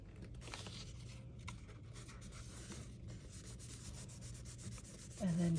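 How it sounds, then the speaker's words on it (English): Glued paper flower pieces for a large paper rose are rubbed together by hand, a steady soft scratchy friction sound running continuously and close, faint overall, ending with a brief louder touch. "And then just rub."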